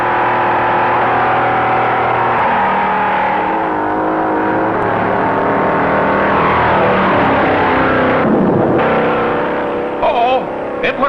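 Stock cars race at the 1957 Daytona Beach event, engines roaring loud and steady as several pass close by, their pitch sweeping and shifting while a commentator narrates throughout.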